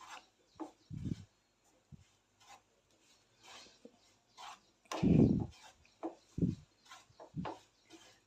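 A spoon scrapes and stirs besan roasting in oil in a pan on a gas stove, giving short intermittent rasping scrapes and knocks. The strokes come close and fairly quiet, with pauses between them.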